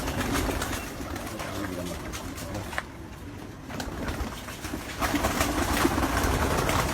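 Breeder pigeons coo in soft, repeated low calls alongside steady background noise, with the sound picking up and growing louder toward the end.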